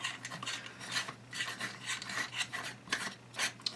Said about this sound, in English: Now screw in the buffer tube.